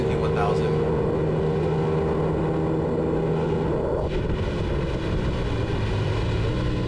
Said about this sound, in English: And here he goes, blasting by on his Suzuki 1000.